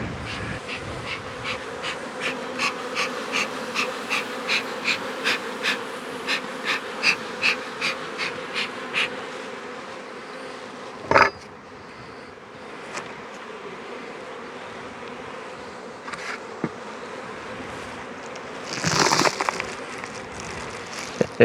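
Honey bees hum and buzz close by around an open hive box during an inspection, a dense steady drone with individual bees zipping past. A few sharp knocks and rustles break in.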